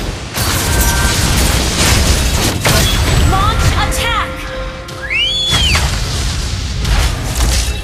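Turret destruction in the Mobile Legends: Bang Bang video game, heard as booming explosive bursts and whistling effects within a dense, loud wash of game sounds and music that continues throughout.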